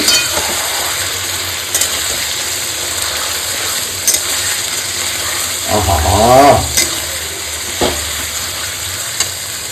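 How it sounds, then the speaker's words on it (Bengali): Chicken marinated in yogurt and salt sizzles loudly in a hot pan while being stirred. Scraping and occasional sharp clinks of the spoon against the pan come through. "ম্যারিনেট করা চিকেনটা এর মধ্যে দিয়ে দেবো ওহো দিয়ে একটু ভালো মতো কষাবো"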